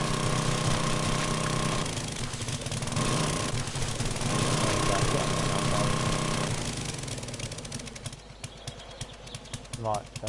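Drilling machinery in a PS4 construction game, a loud continuous engine rumble with rapid hammering and knocking that thins out toward the end, while a voice talks over it.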